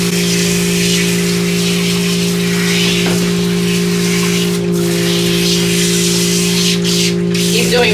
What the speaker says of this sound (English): He's doing really good with the water hose.